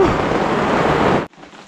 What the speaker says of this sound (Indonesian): Pas hujan.